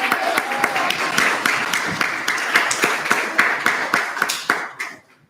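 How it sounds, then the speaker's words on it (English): Audience at a student senate meeting claps in a brief, moderately loud round of distinct hand claps that fades out abruptly near the end, leaving silence. "And if you want to clap, go for it."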